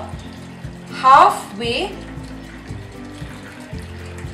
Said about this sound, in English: I'm going to pour some hot water just so that it comes up till about